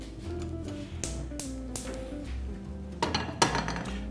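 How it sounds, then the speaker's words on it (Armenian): Metal frying pan set down onto a gas stove in a home kitchen, with a few sharp clinks and knocks of cookware over a low steady hum and no talk. "Տապակը հայտնվում է գազօջախին։"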